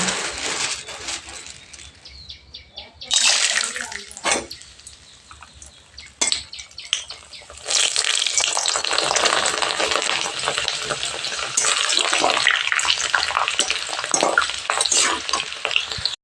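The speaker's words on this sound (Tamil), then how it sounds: "எண்ணெய் நல்லா சூடாகிட்டுருக்கு இந்த அப்பளத்தை பொறிச்சுக்கோமா" Appalam (papad) frying in hot oil, with bursts of bright crackling sizzle that come and go before settling into a steady, loud spattering fry near the end, punctuated by clinks of a utensil.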